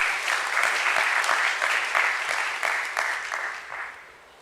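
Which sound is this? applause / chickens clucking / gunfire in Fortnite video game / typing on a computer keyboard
applause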